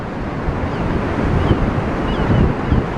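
Wild waves crash and surge along the Blackpool promenade under strong gusting wind, loud and close with heavy wind buffeting on the microphone.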